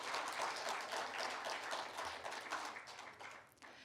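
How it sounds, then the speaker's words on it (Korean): Applause from a conference audience for a speaker at a Korean academic symposium marking the Uiyeoldan centennial, a steady wash of many hands clapping that thins out toward the end. "김상홍 대표님께 다시 한번 뜨거운 박수 부탁드립니다."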